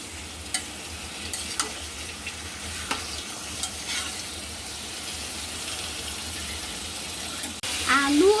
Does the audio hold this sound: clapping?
no